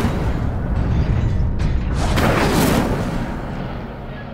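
The Incendio fire spell in Hogwarts Legacy lands as a loud, sustained roaring whoosh over a rumbling bed, swelling to a bright burst midway before easing into a lingering low rumble.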